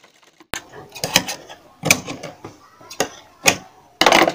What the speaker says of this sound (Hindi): तो हम अपनी पाइपिंग की जड़ में सिलाई लगा लेंगे।